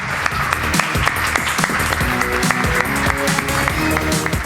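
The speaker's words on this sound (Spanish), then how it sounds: "Un aplauso enorme para vosotros, por favor" A live audience at a comedy stage show applauds, a steady dense clapping that fills the room with loud crowd noise throughout, a few sharper claps standing out near the front.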